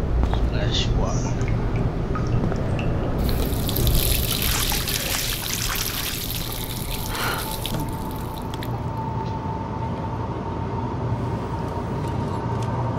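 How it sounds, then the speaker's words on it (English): Water splashing and trickling in a bathroom in the video game Life is Strange, a steady running-tap flow with splashes under a continuous game background, fairly close and moderately loud. "Splash water."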